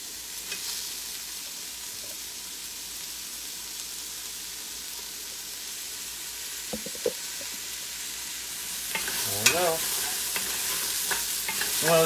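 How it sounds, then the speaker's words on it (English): Tomato and squash soup cooking in a pan gives off a steady, gentle sizzle and simmer throughout, swelling louder and brighter near the end with a few soft stirring knocks. "I'm gonna let it cook for maybe another minute or so. Let it cook down a little bit, get those flavors out."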